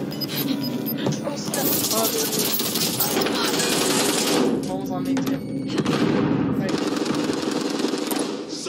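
Sustained bursts of light machine gun fire in a shooter video game, loud and rapid with dense rattling volleys, while players talk over the shooting.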